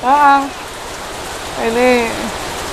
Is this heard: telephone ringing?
no